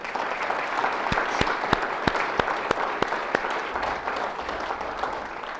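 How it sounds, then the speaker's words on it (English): Audience applause breaks out at a county chairman's address honoring caucus leaders, a dense steady wash of clapping with a few sharp louder claps standing out across its length. "you deserve a round of applause for being caucus leaders"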